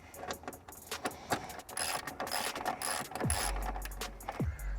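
Bolts being tightened at the top of a grille on a Mercedes C250 W204, with rapid ratchet clicks and metallic mechanism rattles close by, followed by a couple of deeper thuds near the end.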